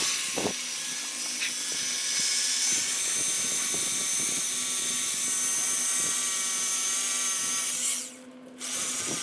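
A power drill bores into deck wood during a deck build, its high steady whine running continuously and close for several seconds before briefly dropping out near the end.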